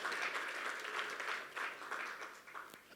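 An audience claps continuously at an event honoring a cricket association chairman, a dense, even wash of applause held at a moderate level with no talking over it.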